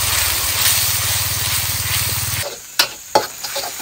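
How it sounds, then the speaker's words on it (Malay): Ground spice paste sautéing in hot oil for a three-flavour siakap fish dish makes a loud, continuous hiss and sizzle, with a low humming drone beneath that cuts out partway through and two sharp utensil knocks after it. "Kita masukkan bahan yang kita kisar tadi. Kita tumis sampai dia naik bau."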